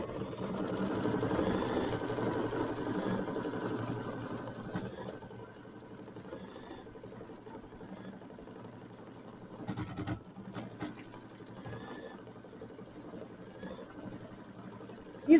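A sewing machine stitches down appliqué pieces on a mini quilt, a steady whirring run that fades to a quieter, intermittent hum with a few brief bursts of stitching.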